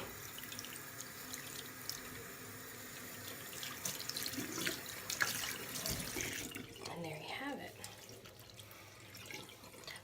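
Running tap water rinsing a synthetic wig cap in a sink, a steady faint splashing stream that thins toward the end, with quiet speech underneath.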